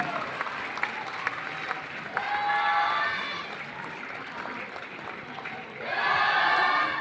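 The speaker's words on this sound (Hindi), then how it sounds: "तालियां बजानी है।" An audience claps in a large hall, a steady patter of applause that swells louder twice, with speech heard faintly underneath.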